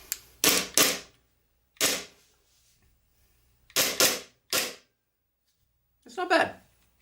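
Umarex gas blowback Glock airsoft pistol firing, sharp crisp cracks arriving singly and in quick pairs with short gaps of quiet, close and loud, about seven shots in all.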